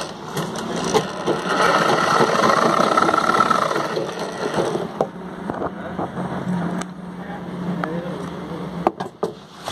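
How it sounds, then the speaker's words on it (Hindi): A sewing machine runs a continuous stitching hum for several seconds while sewing a jeans zip fly from the reverse side, followed by quieter handling and fabric noises. "इसको सिलाई किया जा रहा"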